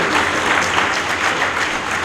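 An audience at a social gathering in India bursts into loud, continuous applause to welcome a social activist, many hands clapping densely and evenly throughout.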